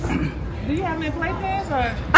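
A goldendoodle gives short yips and whiny, whimpering barks indoors, close by and in a few bursts, while people talk over it.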